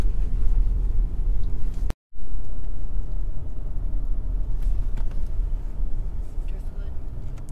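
A car drives along the sandy beach of Assateague Island near the bay, with a steady loud engine rumble and road noise throughout, broken by a brief dropout, while people talk over it.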